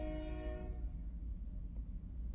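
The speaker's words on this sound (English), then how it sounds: "You hear the train going?" A passing train sounds a steady horn that cuts off after under a second, leaving a low continuous rumble of the rolling cars, fairly faint and distant, with no voices.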